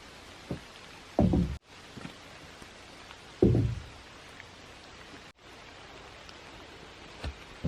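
Steady rain falls as a constant hiss outdoors at a log cabin build site, with a few heavy wooden knocks and thumps from timbers being handled.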